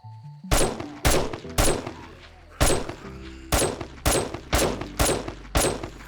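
Gunfire in the video game 7 Days to Die: nine loud, evenly spaced shots ring out in a steady rhythm, each with a sharp crack and short decaying tail.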